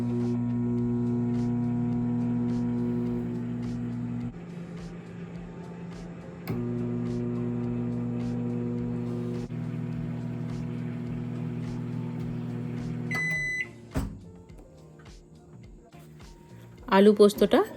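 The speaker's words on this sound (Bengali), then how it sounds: "আমি আবার মাইক্রো ওভেনে দিয়ে দেব আমি এবার দেব চার মিনিট আলু পোস্তটা" A microwave oven runs steadily with a loud, constant hum while aloo posto cooks inside for four minutes, then stops with a beep or clunk, followed by brief clattering as the dish is handled.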